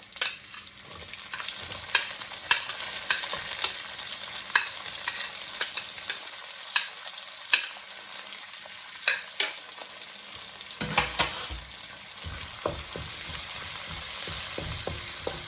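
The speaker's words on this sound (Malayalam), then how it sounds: "ഇതൊന്ന് വാടിക്കഴിയുമ്പോൾ നമുക്ക് നമ്മുടെ സവാള ഇട്ട് കൊടുക്കാം" Onions sizzle continuously in a pan for tomato rice, with frequent scraping clicks as they are stirred, then a louder burst of frying toward the end.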